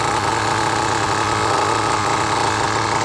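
A Tmax RC model nitro engine runs steadily during break-in, giving a loud, continuous buzzing drone with no pauses and no voices over it.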